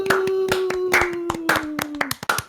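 Hands clap in quick repeated bursts, loud and close, with a steady tonal hum running underneath on a podcast recording.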